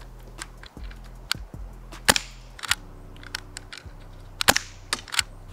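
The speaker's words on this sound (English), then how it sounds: "they narrowed the gap for the BB to exit, which resulted in a significantly heavier trigger pull." SSX23 airsoft pistol with a heavy trigger pull, a series of sharp close mechanical clicks and snaps at irregular intervals over low background hum.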